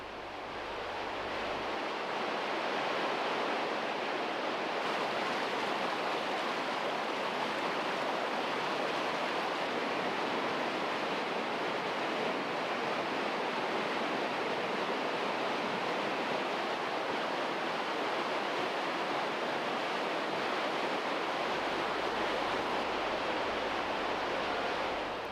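Underground water rushes through a cave as a dense, continuous roar of turbulent flow, loud and unbroken throughout with no voices.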